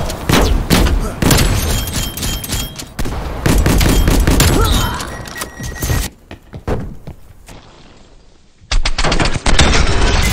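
Gunfire from the LW3 Tundra sniper rifle and other weapons in Call of Duty: Black Ops Cold War comes as loud, rapid volleys and cracks, then a brief quieter lull before heavy shooting resumes.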